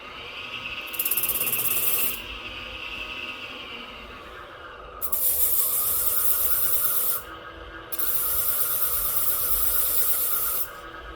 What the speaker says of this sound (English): This is a Bestwood Tools 7-inch hook backed sanding disc.